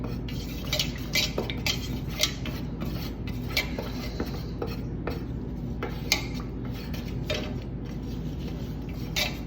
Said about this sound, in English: I'm just stirring it with a bamboo skewer